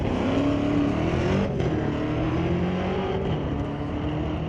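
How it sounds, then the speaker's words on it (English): A 1971 Pontiac Ventura drag car with a carbureted 393-cubic-inch LS engine races at Mission Raceway Park, its engine holding a loud, steady roar with shifting pitch throughout. "Now Joel Smith in the Pontiac. 1971 Ventura."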